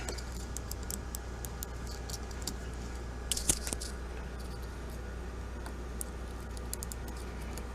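Dive bezel on an OLEVS stainless steel wrist watch with a green face, model SC-S-G5885, being turned: a run of small, quiet ratcheting clicks at irregular spacing over a low steady background hum, with no voices.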